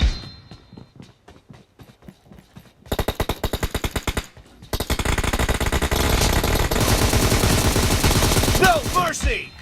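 Gunfire in the mobile game PUBG Mobile: scattered single shots at first, then a fast automatic burst, a brief pause, and a long loud sustained volley of rapid fire running to the end.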